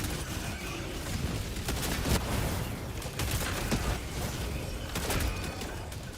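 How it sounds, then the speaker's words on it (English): Weapons fire continuously during a firefight in the video game Helldivers 2, a dense, loud wall of rapid shots and booms that fills the whole span with hardly a pause. "I'm shooting in the right spot"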